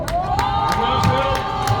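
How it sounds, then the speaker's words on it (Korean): A crowd cheers and claps together at a joint election campaign rally in Cheongju, South Korea, a dense burst of voices and applause sustained throughout. "힘찬 박수로 맞이해주십시오."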